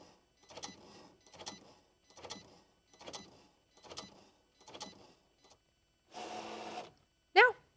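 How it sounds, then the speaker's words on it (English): A Cricut cutting machine works through a calibration sheet, giving six evenly spaced short mechanical whirring bursts, followed by a longer steady buzz and a brief sharp whine at the end, close and moderately quiet. "The Cricut is just making pretty quick work of this."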